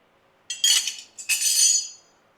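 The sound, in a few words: spanner loosening ball joint nut on Toyota Hilux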